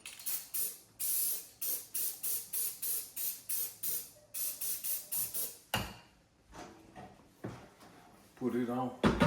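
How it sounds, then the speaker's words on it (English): Repeated short hissing bursts from a can of silicone spray in a quick rhythm, coating sausage-making parts, followed by a few scattered sprays and rustling, with a voice near the end. "I'm gonna spray these parts with this silicone"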